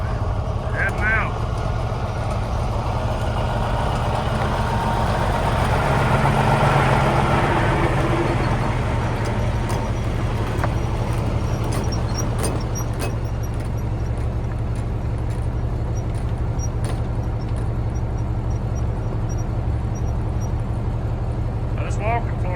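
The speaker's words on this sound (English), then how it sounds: "Peterbilt, heading out." Steady low rumble of a Peterbilt truck engine idling and pulling away, continuous and close throughout, with a walking floor trailer in tow.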